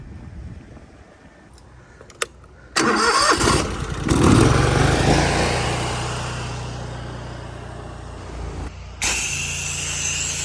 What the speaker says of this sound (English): We're gonna reposition the truck to the front of the house and then do the front and the far side.